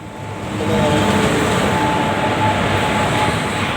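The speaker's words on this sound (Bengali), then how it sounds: "একটা ট্রেন চলে গেল আর একটা ট্রেন ঢুকলো" A train rolls into a station, its steady rumbling roar swelling after the first half second and holding loud and close with a faint tonal whine on top.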